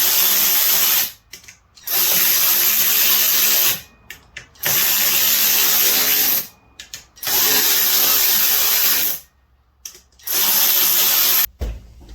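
Power tool ratcheting as it tightens a bolt on a Honda XR80 motorcycle during clutch replacement, four loud buzzing runs separated by short pauses, close up.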